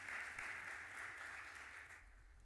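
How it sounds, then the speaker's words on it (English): Audience at a voting-rights gathering applauds a ward councilmember, a soft, distant, continuous patter of claps that thins slightly toward the end. "yes, please applaud him"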